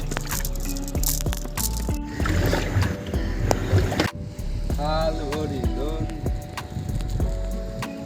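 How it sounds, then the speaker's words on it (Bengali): A large three-story passenger launch passes close by on a river, its engine drone and wash rumbling steadily beneath water noise, with a distinct shift in the sound midway as the vessel goes by. "আমাদের পাশের থেকে একটা বড় তিনতলা লঞ্চ যাচ্ছিলো দেখো বন্ধুরা তিনতলা লঞ্চ"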